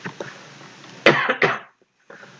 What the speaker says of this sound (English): so I apologize if there's coughing in the background or anything like that